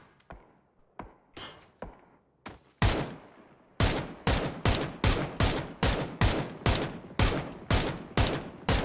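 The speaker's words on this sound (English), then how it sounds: "I can't even see him and all my bullets are in the wall." In the PUBG video game, gunfire hits a wall: scattered single shots, then a rapid steady string of loud cracks with short decays.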